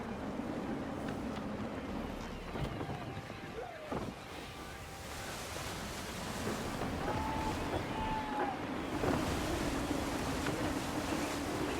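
Wind gusts and waves wash steadily around a sailing ship in Assassin's Creed 3, a continuous rushing blend of breeze and surf at moderate level, with faint voices now and then.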